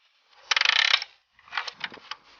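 Ratchet wrench tightening the oil drain plug on a BMW E90 3 Series, two close bursts of rapid clicking with a short pause between them.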